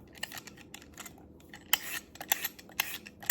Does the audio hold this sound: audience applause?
no